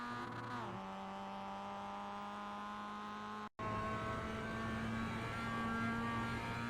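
Mazda MX-5 racing at Oulton Park in the iRacing simulator, its engine note climbing steadily under acceleration with a brief gear-change gap midway, then pulling hard again at close range with no talk.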